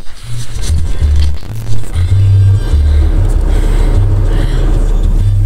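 A car interior at driving speed carries a loud, steady low engine and road rumble with some rustling and scraping close by.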